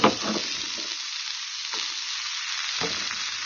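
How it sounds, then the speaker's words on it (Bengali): Beans, cauliflower and potatoes frying in a pan for a healthy village-style oats dish, a close steady sizzle broken by a few scraping stirs of a spoon, with no talking. "এটাকেও হালকা নেড়ে নেব বিনস আর ফুলকপিটাকে"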